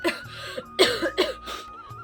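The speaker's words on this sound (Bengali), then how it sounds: "কথা বলতে পারছি না এত পরিমাণে কাশি হচ্ছে" A person who is sick with a cold and fever coughs several times in quick, harsh bursts, close and alone with no talk.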